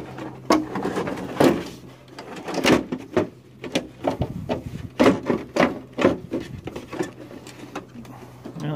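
The plastic case of a CRT television is pried and worked loose during scrapping, giving a string of close, irregular knocks, creaks and scraping rubs with short pauses between them.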